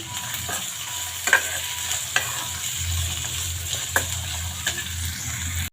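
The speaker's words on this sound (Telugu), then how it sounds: "ఇప్పుడు బాగా వేపుకుందాము" Soaked peas frying in a pan for puri curry, a steady sizzle with occasional sharp scrapes and clinks of a spoon stirring, close and alone without talk.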